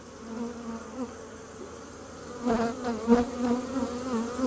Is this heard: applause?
no